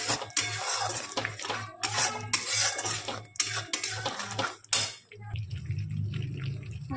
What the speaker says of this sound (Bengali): ভালো করে এটা কষিয়ে নেবেন